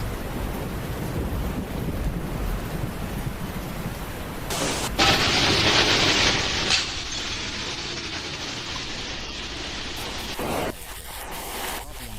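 Heavy rain and strong wind roar continuously during a hailstorm in China, with loud gusts buffeting the microphone and bursts of splashing water.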